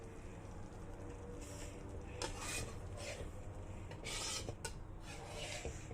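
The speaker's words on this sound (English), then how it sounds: "I'm going to keep the cup aside and start stirring again" Sardine gravy being stirred in a pot, rhythmic scraping and rubbing strokes of a utensil against the pot with a few metallic clinks, moderately quiet and close, no talking.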